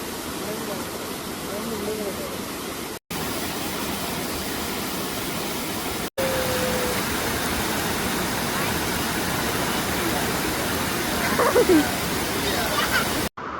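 Vattappara waterfall at Inchikunnu, Kanjirapuzha, roars as a steady broadband rush of falling water, constant and close throughout, broken by brief dropouts.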